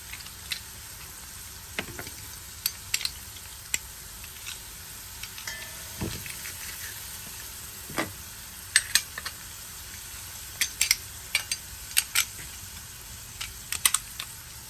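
Garlic sizzles in a sauce over low heat for Cuban shrimp creole, giving a steady soft crackle with scattered pops and occasional clicks of a utensil against the pan.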